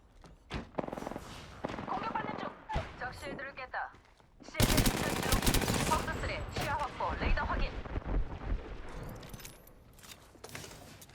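Bursts of automatic gunfire in the battle royale game Apex Legends on the Storm Point map, rapid crackling volleys with a heavy sustained stretch in the middle, mixed with game sound effects and voice lines.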